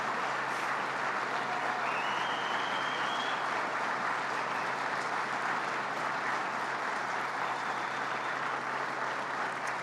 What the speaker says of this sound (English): a round of applause to our governor who stepped right up to the plate